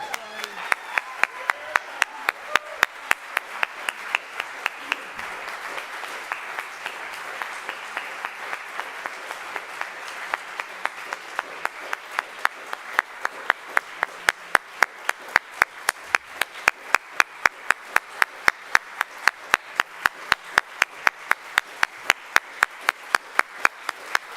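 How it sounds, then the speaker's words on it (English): A church congregation gives a long, warm round of applause at a farewell celebration for a reverend, a dense crowd of clapping that gradually settles into a slow, steady rhythmic beat of unison claps. "Let's give Reverend Diana a warm round of applause."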